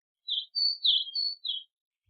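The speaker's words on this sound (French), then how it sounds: "le printemps enfin renaît. Le soleil apparaît et les oiseaux reprennent leur joyeux gazouillis" Spring birdsong: a few bright, high chirps and short tweets in quick succession, clean and close against silence, lasting under two seconds.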